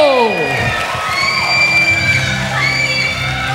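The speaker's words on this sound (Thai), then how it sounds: "ปรบมือดังๆ ต้อนรับน้องอาร์มครับ" A studio crowd cheers and whoops to welcome Arm, a 16-year-old contestant on a televised singing show. The cheering is loud and lively, with high shouts and yells rising over a steady crowd roar.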